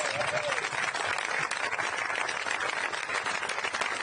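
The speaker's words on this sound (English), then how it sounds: "clap wildly for these guys" Audience applause greets legislators at a groundbreaking ceremony for an airport expansion, a steady, dense wash of clapping from a crowd that fills the whole stretch without a break.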